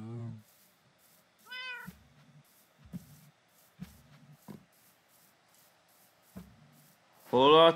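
Several Minecraft cat meows sound close and clear, one early and a louder one at the end, with short spoken syllables scattered between them.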